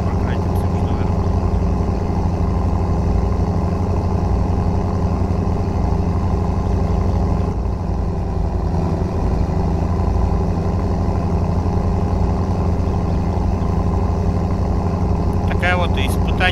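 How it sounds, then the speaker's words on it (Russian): A tractor engine drives along a highway in BeamNG, a steady loud droning hum with layered tonal harmonics that holds constant throughout, with a voice talking over it. "посмотрим, как он себя покажет на шоссе, этот трактор"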